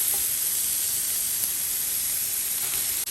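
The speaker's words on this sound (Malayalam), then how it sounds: "ഞാനിപ്പോൾ കോക്കനട്ട് ഓയിൽ ഒഴിച്ചു കൊടുത്തു. ഇനിയിപ്പോൾ നമുക്ക് ഈ ചെറിയ ഉള്ളി അരിഞ്ഞ് വെച്ചില്ല, അതങ്ങോട്ട് ഇട്ട് കൊടുക്കാം." Chopped small onions fry in hot coconut oil for a goat curry with coconut milk, giving a steady, loud, close sizzle that hisses evenly throughout with no speech.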